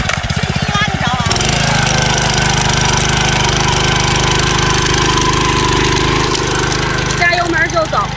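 A Zongshen 50 mini tiller with an oil-bath clutch starts after a pull and settles into a loud, steady, close-up chugging engine drone that runs unbroken through to the end.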